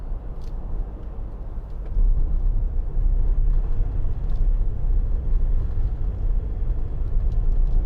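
A 2016 Ford Transit Custom 2.2 TDCi van on the road, with a low, steady diesel rumble and road noise that swells louder after a couple of seconds and carries on evenly.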